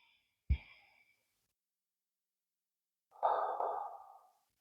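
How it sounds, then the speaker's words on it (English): Two deep breaths during a beginner lower-body yoga flow: a short sharp inhale followed later by a long, airy exhale, close and alone with quiet between. "a deep breath here"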